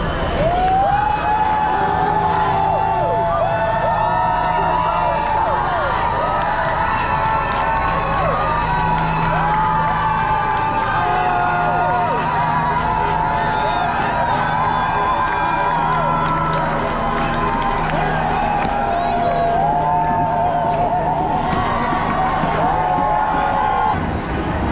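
A dense protest crowd on Madison Avenue in New York City cheers and shouts steadily, with whoops and voices layered into a loud, continuous roar throughout.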